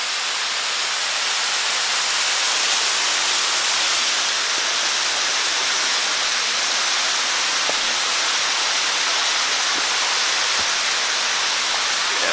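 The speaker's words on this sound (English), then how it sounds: "Goodbye, beautiful waterfall." A waterfall on the Shades of Death Trail in Hickory Run State Park roars as a dense, steady rush of falling water, loud and unbroken throughout.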